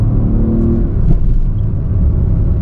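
A 2024 Suzuki Swift fitted with an aftermarket intake revs above 3000 rpm, giving a loud, steady, close engine roar with deep low rumble that holds for the whole moment without anyone speaking.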